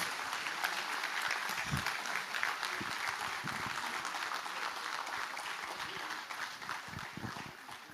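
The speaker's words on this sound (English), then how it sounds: "A huge round of applause, please." A crowd applauds steadily with dense, sustained clapping, some scattered louder claps standing out, continuing throughout without talk.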